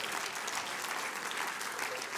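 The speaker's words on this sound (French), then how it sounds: "vous pouvez vous applaudir vous-même" An audience bursts into sustained, dense applause at an Apprentiscène 2025 evening show, many hands clapping steadily and loudly throughout with no pause.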